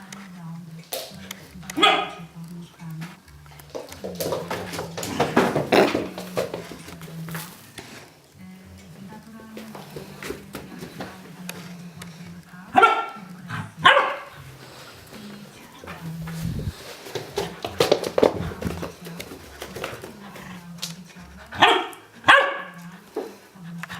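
Dogs bark repeatedly in scattered bursts, some close and sharp, with occasional yips, over ongoing outdoor background noise and a voice.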